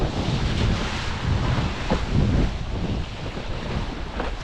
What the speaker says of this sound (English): The wind just comes and goes.